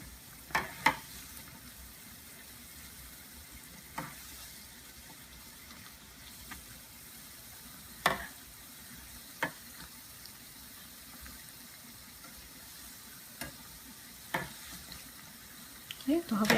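Black-eyed pea fritters fry in oil over medium-low heat with a soft, continuous bubbling sizzle, broken by occasional sharp clicks and taps from a spoon or pan.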